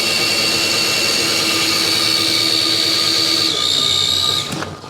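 An RC car electric motor spinning on a dyno gives a loud, steady high-pitched whine that steps up in pitch near the end, then abruptly cuts out and winds down.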